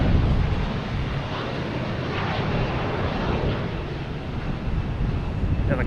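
An Embraer E-175 jet airliner at Boston Logan Airport produces a sustained, distant engine rumble and whoosh, level and unbroken, mixed with some wind buffeting on the microphone.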